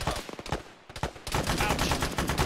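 Rapid gunfire in the military shooter Arma, bursts of sharp shots, a brief pause, then heavy continuous automatic fire with overlapping reports, loud and close.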